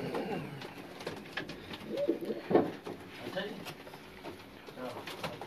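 Pigeons on a rooftop loft in Sharjah coo in soft rolling calls close by, rising to a louder burst midway, while people talk over and around them.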